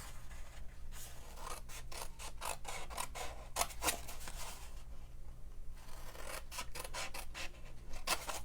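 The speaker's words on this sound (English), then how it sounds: "I'm going to cut on these score lines. I'm going to cut to the second score line." Scissors cut cardstock along score lines for a homemade candy bowl, giving a quiet series of rhythmic snipping and rasping strokes close by, with no talking.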